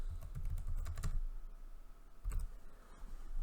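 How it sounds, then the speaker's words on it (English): Computer keyboard keys tapped while entering a password at a workstation, a quick cluster of clicks followed by a pause and a second short burst, close and fairly quiet. "Type her password in."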